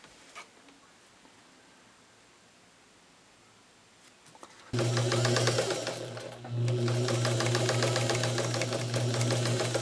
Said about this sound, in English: I've got column 3 sewn on.